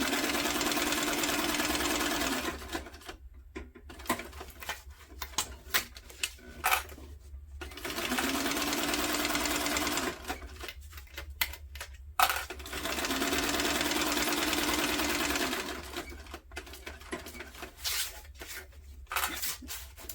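Sewing machine stitching a tote bag at stitch length 4: three long, steady runs of loud motor hum and rapid needle chatter, each a few seconds long, broken by quieter gaps with fabric handling and clicks.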